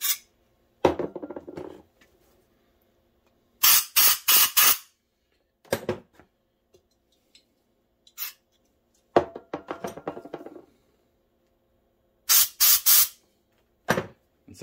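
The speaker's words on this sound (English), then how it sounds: "So just take a carb cleaner and just kind of, spray it into every single orifice." Carb cleaner sprays into an Enticer carburetor in loud, hissing bursts of about a second each, several of them with quiet gaps between, plus a few sharp knocks and taps of handling.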